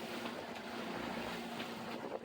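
Steady wind and choppy waves on open lake water, heard from aboard a boat during a blow of around 25 knots with 1 to 2 foot waves in the Apostle Islands; continuous rushing noise with wind buffeting the microphone and no talk.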